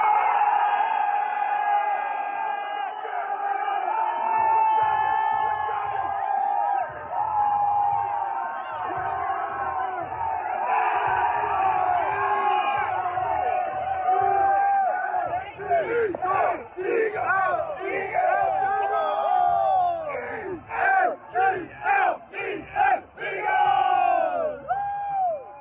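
A large, dense crowd of fans roars, whoops and cheers in celebration at the NFL Draft in Philadelphia, with sustained shouting and chanting that swells in loud bursts through the second half.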